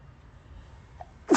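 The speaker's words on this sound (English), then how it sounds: "Excuse me, I've been sneezing a lot." A single sharp, loud human sneeze bursts out near the end, close to the microphone, after a quiet stretch with a faint intake of breath.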